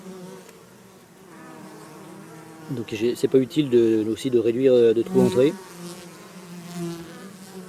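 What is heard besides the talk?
honey bees buzzing at beehive entrance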